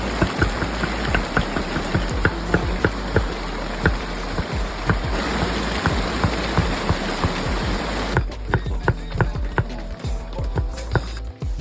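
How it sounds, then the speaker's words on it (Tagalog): Steady rain patters and drums outdoors during open-air cooking, a dense hiss with sharp drop impacts that runs continuously and thins slightly toward the end. "inaabot pa nga kami ng ulan"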